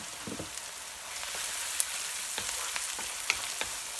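Garlic frying in a pan, a soft continuous sizzle with scattered small pops and crackles, close and moderately quiet, with no voices.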